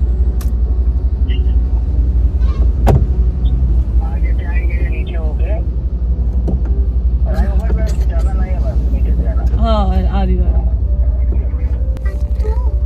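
Night traffic rumbles steadily around a stopped car at a steel market signal, with a low engine drone throughout, occasional horn-like tones and passing vehicles, while people talk and children's voices come and go over it.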